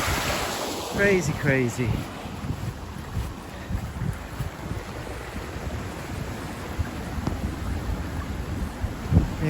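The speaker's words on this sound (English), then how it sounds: "a little stream which in summer is empty. Look at this. Big torrent." A rain-swollen little stream, normally dry in summer, rushes as a big torrent in a steady broadband roar with wind buffeting the microphone, while someone speaks briefly over it.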